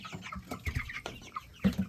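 Young meat chickens, about three and a half weeks old, cluck and chatter in short bursts, several birds close by in a rapid, uneven jumble.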